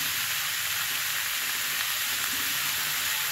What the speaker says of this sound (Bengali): এখন আমি ফুলকপিগুলো সুন্দর করে ভেজে নেব।